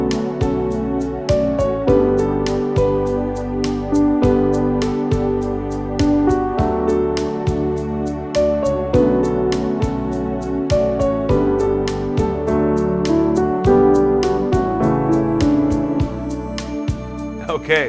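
Solo piano plays the verse of a song in an intermediate-level arrangement, steady rhythmic chords and melody notes ringing clearly at a moderate pace, with no talking over it.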